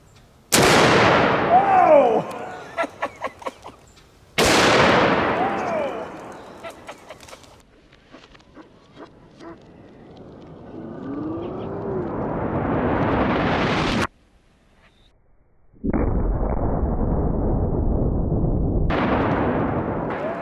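Several heavy .50 BMG rifle shots fired at a steel Olympic weight plate outdoors, each a booming crack followed by a long echoing rumble that slowly fades, spaced seconds apart.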